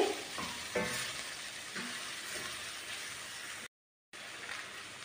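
Ingredients sizzling and frying in a pan, a steady close hiss with a few stirring scrapes and bursts near the start, cut by a brief silent gap before the sizzle resumes.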